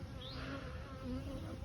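Honey bees buzz steadily and close around a beekeeper's camera, a continuous insect drone with a few rising passes as individual bees fly near.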